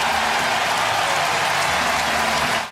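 Big crowd at a Giants baseball game roaring in a steady, loud wash of cheering that holds for a few seconds and then cuts off abruptly.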